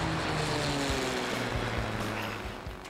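A small propeller airplane under shared ownership drones steadily, its engine hum continuous and fairly loud, easing off slightly toward the end, with no talk.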